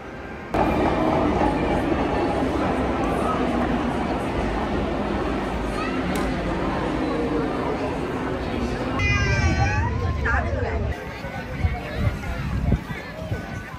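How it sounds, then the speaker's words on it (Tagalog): Steady rumble and rolling noise inside a train running from Sunny Bay Station toward Disneyland Resort in Hong Kong, with a constant loud drone, brief squeals near the end and people talking in the background. "bumaba kami ng Sunny Bay Station para sumakay uli ng isang train papunta sa Disneyland Resort"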